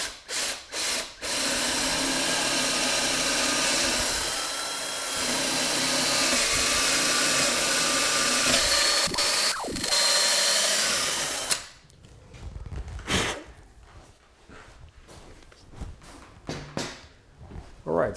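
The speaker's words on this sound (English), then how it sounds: "We're going to drill all the way through this base right down through the bottom" Power drill boring a hole down through a wooden base for a standing wood duck decoy, a loud steady whine running continuously for about eleven seconds before stopping, followed by scattered quieter handling clatter.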